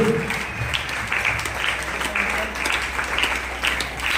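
Steady applause from an audience at a stage program in Chandauli, India: a dense, continuous patter of many hands clapping, sustained at an even level throughout with no distinct voices.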